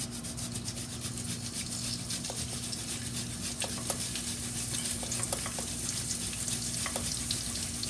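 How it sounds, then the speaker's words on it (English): Grated ginger sizzles steadily in a hot frying pan with black pepper, a continuous close crackle with occasional stirring scrapes and clinks throughout, no talking. "You could hear it sizzling"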